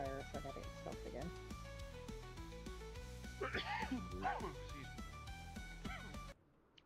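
A dog barks and whimpers with yips and whining pitch glides over steady background music. The sounds rise most clearly partway through and then cut off sharply at the end.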